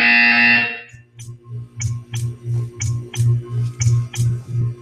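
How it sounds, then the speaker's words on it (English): A loud, harsh electronic buzzer from the video game Portal 2 blares for about a second, then gives way to a steady rhythmic pulsing of soft thumps. "When you hear the buzzer, stare at the art."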